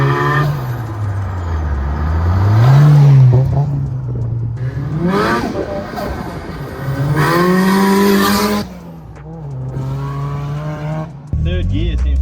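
A Nissan 180SX with an SR20 engine drifts loudly, its engine revving and swinging in pitch while the tires squeal in long sustained bursts, with a voice talking over parts of it.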